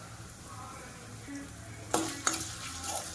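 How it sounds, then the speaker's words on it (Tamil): Long-sliced medium onions sauté in a pan for chicken roast, with a low steady sizzle and a couple of sharp scraping stirs partway through. "இப்போ ஃபஸ்ட்டு இந்த வெங்காயத்தை வந்து நல்லா வதக்கிக்கலாம்"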